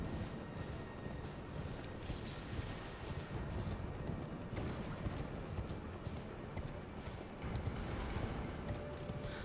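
In the game Elden Ring, a horse gallops across a plateau with a dense, rapid clip-clop of hooves and rattling gear, steady and close throughout, over a rumbling background.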